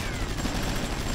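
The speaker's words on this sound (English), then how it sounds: "He's trying to shoot me with his massive, massive cannon arm." Rapid heavy gunfire from a boss's massive cannon arm in the video game Wildstar, a dense continuous burst of shots filling the moment.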